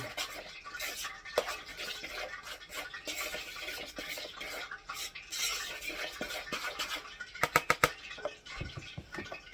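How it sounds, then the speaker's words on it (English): A spoon stirs a food mixture in a bowl while frying chicken, giving quiet, irregular scraping and clinking strokes, with a quick run of sharper taps near the end. "And then I'm going to stir that together."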